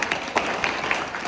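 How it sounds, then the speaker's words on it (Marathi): Children in an audience clap after a science demonstration: a short burst of a few separate claps, fairly close and moderately loud. "टाळ्या मस्त"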